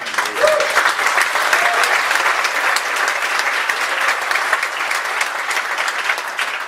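Audience applause at a church conference session, a loud, sustained wash of many hands clapping for several seconds with a faint voice briefly underneath.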